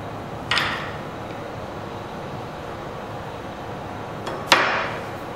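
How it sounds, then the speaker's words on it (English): Holding nuts released with a spanner on a manual coning and threading tool for tubing, two sharp metallic clicks a few seconds apart against a steady background hum, close and isolated, with no talking. "Then we need to release the holding nuts"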